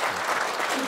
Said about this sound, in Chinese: 接下来我们再次热烈掌声欢迎华范师傅